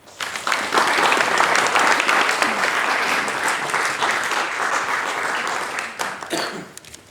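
A lecture audience welcoming speaker Aoife to the podium with a steady burst of applause that swells quickly, holds, then thins out near the end.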